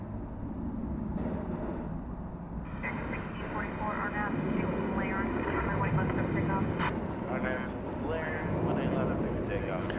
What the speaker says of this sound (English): American Airlines going to Salt Lake City in Airbus A321.